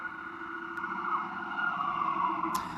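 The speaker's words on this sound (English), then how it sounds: "listen to that siren go." A steady wailing siren, likely from an emergency vehicle, sounds at moderate distance with traffic hum, holding a sustained tone throughout without fading much.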